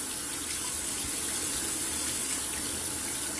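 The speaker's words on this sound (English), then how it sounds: "I'm gonna rinse this down the sink." Tap water running steadily into a sink while hair color is rinsed out, a continuous close hiss and gush with no speech.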